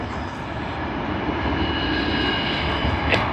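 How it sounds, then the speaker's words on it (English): A Jetstar jet plane at Sydney Airport roars steadily, a broad continuous engine rumble and whine that stays loud and even throughout, with no voices. "Let us go and capture this plane out here."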